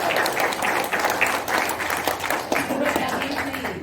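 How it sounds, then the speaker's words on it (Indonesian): Sustained audience applause fills a large hall during a motivational mentoring seminar in Surabaya, a dense steady wash of clapping from many hands with a brief vocal tone near the end. "tepuk tangan lebih meriah"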